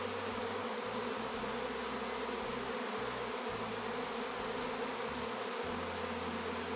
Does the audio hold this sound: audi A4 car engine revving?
no